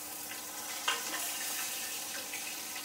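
Chopped onions go into hot oil with cumin, giving a faint, even sizzle of frying with a small clatter near the start.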